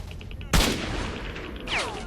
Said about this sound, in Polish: Dobra, robimy test snajperki, uwaga.